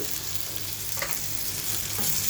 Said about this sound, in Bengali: লবণ দিয়ে পেঁয়াজটাকে একটু ভাজা ভাজা করে নেব